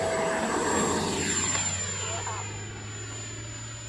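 A yellow FMS Viper 70mm EDF RC jet flies past, its steady ducted-fan whine holding loud and continuous with a falling pitch sweep as it passes, filmed from a head-mounted camera outdoors.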